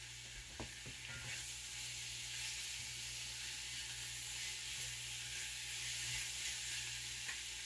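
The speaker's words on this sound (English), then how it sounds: "And while these onions are caramelizing" Onions caramelizing in a pan on the stove give off a steady, soft, fairly quiet sizzle with an even frying hiss, plus a few faint stirring clicks near the start.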